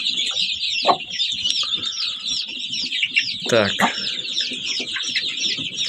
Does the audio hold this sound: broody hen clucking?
yes